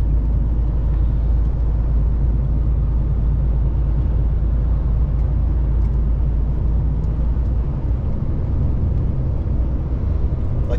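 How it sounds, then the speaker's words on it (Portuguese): Spanish army trucks passing on a road, heard as a loud, steady low rumble of heavy engines and tire roar from inside a cab, continuous with no break. "Tá aqui os caminhões do exército passando"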